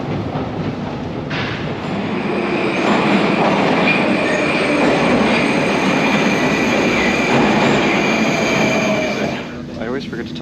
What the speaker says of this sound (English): Forget to talk about how absolutely loud this metro is